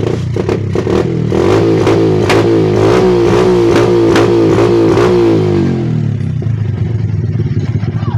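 A Honda Wave 125 motorcycle engine revs hard in rhythmic bursts, loud and close, then drops back to a rough, steady idle.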